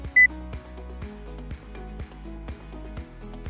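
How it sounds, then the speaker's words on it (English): A motorised STTEL-44N ceiling TV mount gives one short, high electronic beep confirming a stored memory position, brief and sharp over a soft, rhythmic musical background. "Press the MEM1 or MEM2 button for 1 second. A beep will sound."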